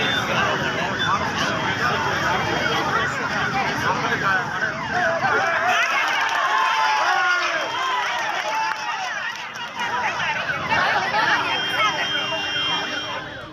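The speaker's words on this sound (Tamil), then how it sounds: "கீழிருந்த மக்கள் கைத்தட்டி ஆரவாரம் செய்தனர்" A street crowd below a building roars and shouts in a dense, continuous commotion as a young man grabs a woman on a rooftop to stop her jumping; clapping is hard to pick out within the loud, sustained hubbub.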